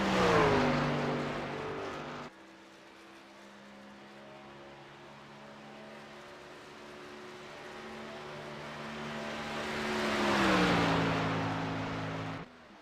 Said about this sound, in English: Looks like we got a truck taking off a pit road here, the 67 of Doug Solms